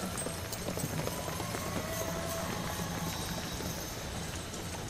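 Draft horses in a six-horse hitch trot at a championship show, their hooves making a dense, continuous clatter heard over a broad, noisy arena background.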